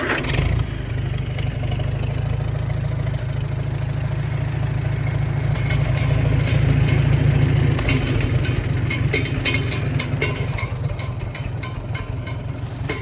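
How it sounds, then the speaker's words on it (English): Engine of a 1950 IH McCormick W6 Standard tractor on a cold day, starting up and then settling into a steady, loud, low idle that rises slightly in throttle partway through. "So start it up, it's in neutral, pull that out, give it a little throttle."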